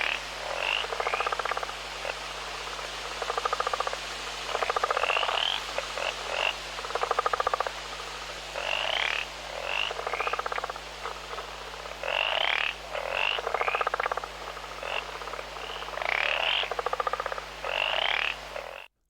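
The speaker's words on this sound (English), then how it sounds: "The frog shown in green is the one that's playing." Frogs croaking around a pond in game audio, a chorus of loud raspy calls in regular bursts trading off one another, with a steady low hum beneath.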